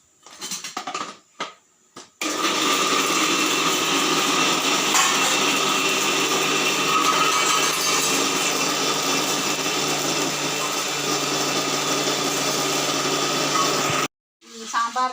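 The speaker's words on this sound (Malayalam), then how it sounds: "നാളികേരം അരയ്ക്കാൻ പോവാട്ടോ" An electric mixer grinder whirs loudly and steadily as it grinds coconut, running for about twelve seconds before cutting off, with faint sounds of kitchen handling before and after.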